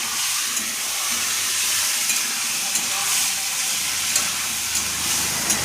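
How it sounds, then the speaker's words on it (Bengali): Meat fries in a kadai with cumin and onion, a continuous loud sizzle and hiss with the scrape of stirring, steady throughout and without talk. "একটুখানি নাড়িয়ে নিচ্ছে, যেন ভালো হয় মাংসটা"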